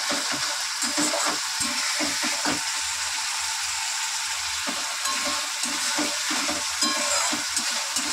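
Masala paste fries in oil while being stirred, a steady sizzle broken by repeated spoon scrapes and stirring strokes, moderately loud with no talking.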